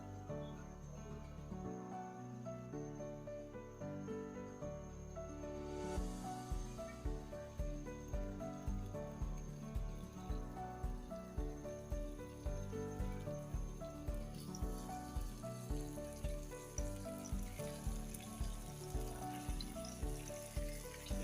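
Marinated chicken fries in two tablespoons of oil over medium heat, a steady crackling sizzle that strengthens after the pieces go in, with a faint background hum.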